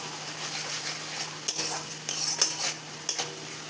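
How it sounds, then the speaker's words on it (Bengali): Biryani masala with ground cumin and coriander being sautéed in a pan for a vegetarian biryani: a steady sizzle runs throughout, broken by a few sharp scrapes and clinks of a utensil against the pan, with no talking. "কিছুটা জিরে গুঁড়ো, কিছুটা ধনে গুঁড়ো দিয়ে আমি ভালোভাবে আবারও কষিয়ে নেব"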